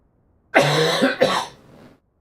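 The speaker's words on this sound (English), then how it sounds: "Cough, cough." Two harsh coughs close to the microphone, one right after the other, trailing into a breathy rasp.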